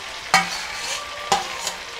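Egg hits a hot pan of frying vegetables for fried rice, a close sizzle with two sharp stirring clatters of a spatula over the steady hiss.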